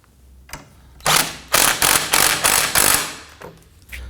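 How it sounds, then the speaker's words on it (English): A hand ratchet tightens the lower shock absorber bolt on a 2015-2024 Nissan Murano rear suspension, heard as a quick series of sharp, close clicking pulses after a couple of lighter knocks. "We're going to go ahead and tighten and torque the lower bolt."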